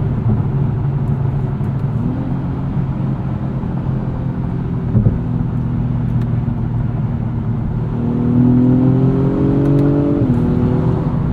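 2024 Acura TLX Type S with all-wheel drive accelerating hard out of a corner, its engine note climbing through rising gears, loud and steady inside the cabin with a deep droning rumble.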